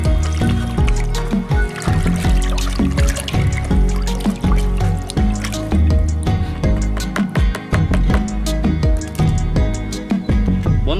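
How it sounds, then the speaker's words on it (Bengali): Oil cake fertilizer is stirred and mashed by hand in water, producing continuous wet sloshing, squishing and dribbling sounds up close with no talk. "এইবার দেখুন এই খোল আমি গুলিয়ে নিচ্ছি।"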